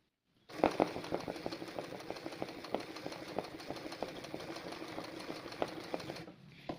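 Embroidery sewing machine running and stitching, a steady rapid mechanical chatter with regular needle clicks, close and moderately quiet, starting abruptly and continuing without talk.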